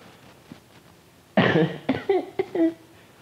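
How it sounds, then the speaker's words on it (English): After a quiet stretch, one sharp close cough erupts, followed by a few smaller throaty coughs and vocal noises. "I had a little cough."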